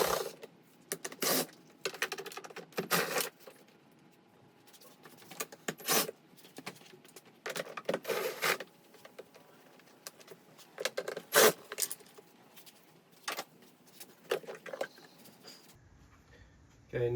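A power tool whirs in repeated short bursts while backing out 8mm bolts from the cabin air filter housing of a BMW E90 with a 3.0L engine, with quiet clinks and handling noises between bursts.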